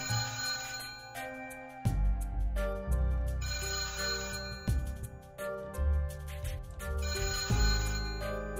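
An in-game telephone rings in the point-and-click game Fancy Island, a repeating electronic ringtone in regular bursts over a low musical background, close and clear.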